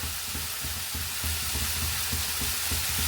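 Paneer mixed with softened vegetables being stirred in a sizzling pan, a dense close frying hiss with rhythmic scraping strokes every fraction of a second, no voices.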